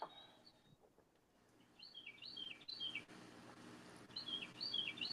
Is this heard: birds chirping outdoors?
yes